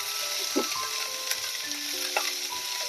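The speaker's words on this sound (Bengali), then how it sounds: "এরপরে আমি ক্যাপসিকামটাও দিয়ে দিচ্ছি সবজিগুলো ভাজা হবে কিন্তু গলে যাবে না" Capsicum and mixed vegetables sizzle steadily in a pan for pasta, a continuous close frying hiss broken by a few soft stirring clinks.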